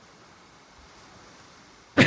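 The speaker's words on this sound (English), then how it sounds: "Excuse me, sorry, I sneezed." A single sharp sneeze from a person close by, bursting out loud and alone at the very end after a near-silent stretch, while playing the Viking survival game ASKA.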